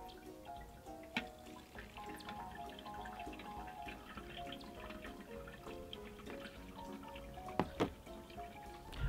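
Water poured through a filter trickles and drips steadily into a bucket, with scattered splashes and a couple of sharper drops near the end; no one speaks.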